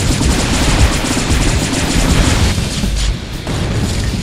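Dense gunfire and booms from a free Steam video game, rapid loud shots layered into a continuous barrage with a short dip before it resumes.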